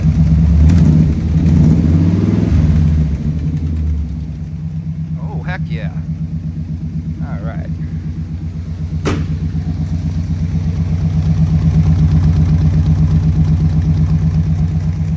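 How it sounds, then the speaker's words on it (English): An old 1950 Ford F-1 pickup truck engine idles with a deep, steady rumble, swelling as it revs, while someone speaks briefly over it. "What an awesome sounding truck."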